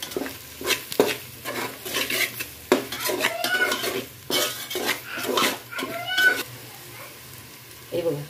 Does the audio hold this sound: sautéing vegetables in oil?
yes